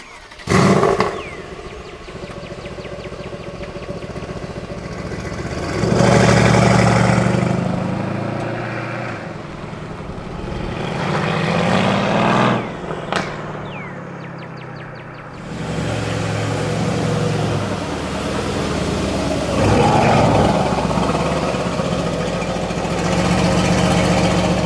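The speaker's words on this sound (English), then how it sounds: "now we're gonna hop in the car, go back home" Engine of a car or pickup near the owner's Ford F-150, idling with a rough, steady mid-to-low rumble for about 25 seconds, swelling in a few louder surges and one sharp knock near the middle, with no talk over it.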